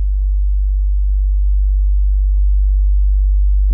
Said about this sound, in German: Für einen Subbass wäre der jetzt zu laut.